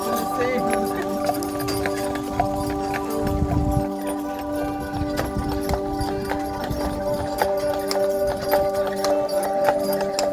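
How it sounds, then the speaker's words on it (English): Steady clip-clop of horse hooves on pavement on Mackinac Island, Michigan, a continuous walking rhythm, moderately close, with background murmur and a low thud partway through. "We have 700 horses on the island in the summertime."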